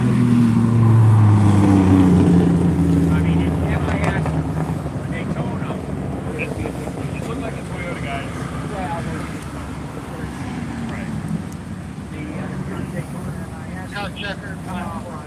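An MGB sports car driving laps on Nashville Super Speedway, its engine drone loudest at first and then fading into a steady wash of wind and road noise.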